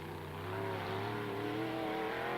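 A street car competing in a 1994 Icelandic off-road trial revs hard under heavy throttle while misfiring, a steady loud engine roar that holds throughout with no talk.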